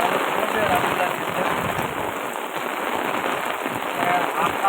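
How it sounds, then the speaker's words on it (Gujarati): Heavy rain pouring down in Rajula amid strong wind, a loud, dense and continuous hiss of rain striking surfaces close by, steady throughout. "મસ્ત વરસાદ ચાલુ થયો છે રાજુલાની"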